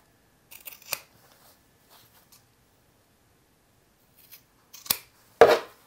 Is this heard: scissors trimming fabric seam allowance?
yes